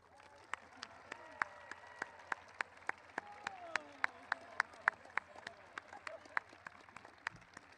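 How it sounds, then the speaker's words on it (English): Audience applause for high school choir seniors standing to be honored at a school pride day event: sparse, distinct claps over a soft murmuring crowd, with faint talk and rustle underneath. "let's give them a round of applause."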